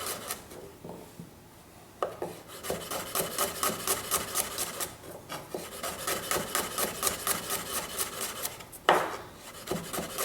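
Garlic cloves roughly chopped with a knife on a board, a rapid run of close, crisp blade taps with brief pauses, pace picking up and continuing steadily throughout.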